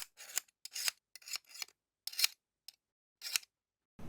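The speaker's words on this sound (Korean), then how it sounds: "지저분한 거 좀 잘라줄게요." Scissors snip through leather scraps, trimming the edges of a leather key wallet in the making. Crisp close cuts come in a quick irregular series of about eight, separated by brief silences.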